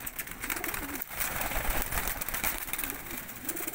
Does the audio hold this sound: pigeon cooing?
yes